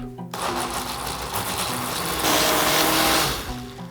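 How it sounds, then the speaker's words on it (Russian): A blender whirs loudly and steadily for several seconds while puréeing a quince sauce, its motor pitch rising slightly near the end before winding down. "Включаем блендер"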